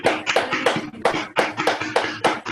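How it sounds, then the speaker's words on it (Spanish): Applause from a few people on a call, loud close hand claps coming in uneven bursts and short runs rather than a full crowd roar, with no talk over them. "vamos a saludar el esfuerzo, digamos, de Toto con un aplauso que"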